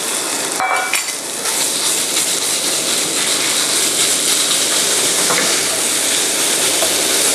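Minced pork and shrimp fry in a hot pan with a loud, continuous hissing sizzle. A clattering stir sounds near the start, then the frying holds at a steady level to the end.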